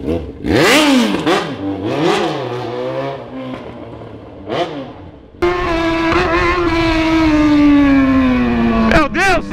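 Yamaha XJ motorcycle with a straight-pipe exhaust, roaring loud and close through several rising and falling revs, then a sustained high-pitched pull that drops slightly before a final blip.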